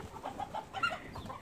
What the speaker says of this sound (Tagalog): Mga kapatid kong manok.